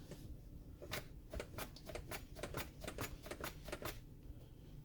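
A knife slices through striped lemon cucumbers on a cutting board in quick, crisp, uneven taps, about a dozen sharp cuts close by against a quiet background.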